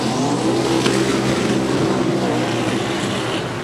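Drag racing cars, including a Camaro, accelerate down a strip at around 200 km/h, a loud continuous roaring engine wail that fills the whole span with no break.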